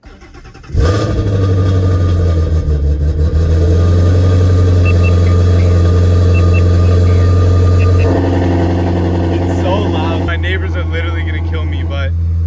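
A Ford Mustang GT350 with B-pipe midpipes cranks and fires into a loud, deep rumbling idle that holds steady, with a shift in tone near the end; a voice speaks briefly over it.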